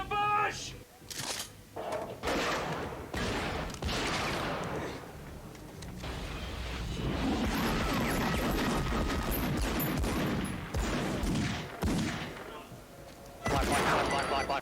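Rapid gunfire and crashes from a heist ambush shootout in the film Dead Presidents, loud and dense through most of the stretch, mixed with shouting voices and movie score.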